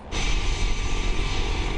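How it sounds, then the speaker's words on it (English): Air Care rescue helicopter arriving at the bottom of a hill, a steady loud roar of engine and rotor noise that holds constant throughout, with no talk. "that helicopter is now on its way"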